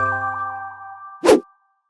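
A notification bell ding sound effect rings out once, loud and bright, after a sustained electronic chord tone fades, then silence follows.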